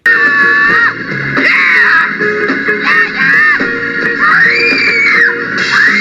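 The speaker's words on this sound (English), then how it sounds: "the girl's screaming after spotting the bloody guys" A woman screams in a scene from the 1967 film Point Blank, long loud sustained wails rising and falling over a droning, distorted background for several seconds.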